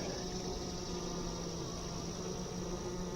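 Honeybees at an open hive during an inspection in late June, combs being drawn on the frames; a steady, dense buzzing hum runs evenly throughout, close and continuous with no talking.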